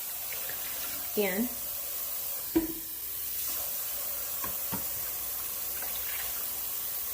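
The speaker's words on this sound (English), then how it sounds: "I'm just going to use this pitcher here to add water" Water pours from a pitcher into a cooking pot of beans as a steady, soft splashing wash that runs for several seconds, with a brief voice and a small clunk near the start.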